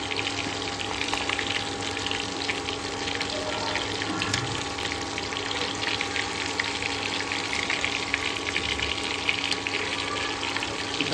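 Fish sizzling in hot oil, a steady dense crackle and hiss running without pause at close range, with no voices over it.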